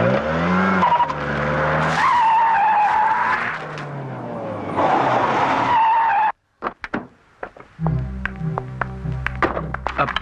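Car pulling up with tires skidding, loud engine roar and squealing tires that ease off, then a short hush followed by clattering street noise and a lower engine idle.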